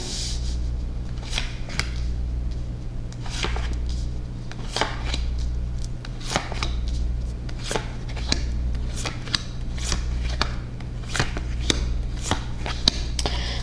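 Tarot cards are shuffled and laid down, with a steady run of soft close flicks and slaps that land in a loose rhythm for over ten seconds, and no talking.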